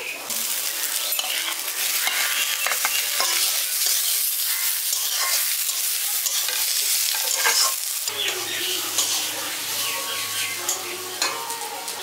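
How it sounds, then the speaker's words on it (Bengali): Fried eggplant being stirred into spiced winter vegetables in a pan, village-style cooking: continuous scraping and stirring over a bright, steady sizzle, close and fairly loud, with no talking. "বেগুনটা দিয়েও ভালো করে মিশিয়ে দিয়েছি মশলাগুলোর সাথে।"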